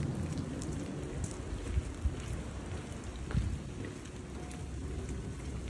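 Steady rain patters and hisses on surfaces nearby, a dense continuous wash with a few louder drops and thuds scattered through.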